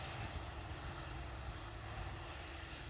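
A FrontRunner commuter train pulls out of Clearfield station, heard as a steady, broad engine roar and rumble that holds evenly throughout with no talk over it.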